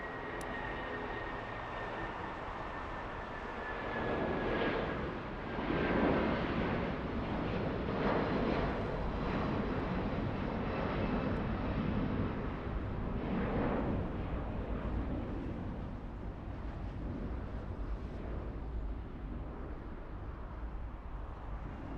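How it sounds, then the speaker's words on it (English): A United Airlines Boeing 757-200 jet flying toward Newark from LAX, a moderate, rumbling engine roar that swells and fades gently, heard from a distance with a faint whine early on. "That's a 757-200."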